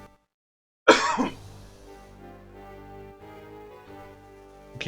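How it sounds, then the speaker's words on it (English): A man clears his throat with a loud, rasping burst near the start, then goes quiet apart from low background sound and a faint stir at the end. "Excuse the excessive clearing of my throat."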